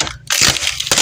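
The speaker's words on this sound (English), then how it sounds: "some clear packing tape on your door, and not only will it wake you up because the noise is so loud" Clear packing tape stretched across a hotel room door rips loudly as the door is pulled open, a harsh tearing crackle close up that pauses briefly and then bursts again.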